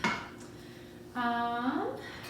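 Bone broth is stirred in a pot, with a few soft utensil knocks and scrapes against the pot's side. A brief voiced sound rises partway through.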